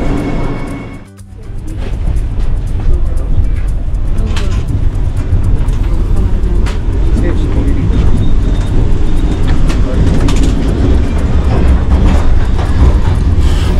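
Vande Bharat Express 22223 running from Mumbai to Shirdi, heard from inside the carriage as a steady, loud rumble of wheels and motion with a brief dip near the start, continuous throughout.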